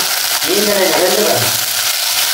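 Eggplant and tomato sautéing in a pan, a loud steady sizzle from start to end, with a voice speaking briefly over it.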